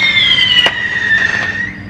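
Fireworks whistle and whine in a high sustained screech with brief crackling pops, loud and close throughout, with no voices.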